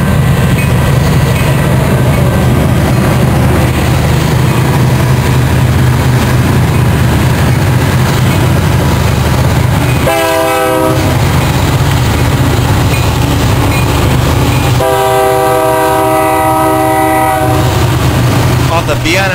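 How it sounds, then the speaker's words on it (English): Union Pacific 844 steam locomotive passing at DeVore in Cajon Pass, California, a loud continuous rumble of the train with two long horn blasts partway through, close and dominant, no talking. "this is the UP844 at DeVore, California"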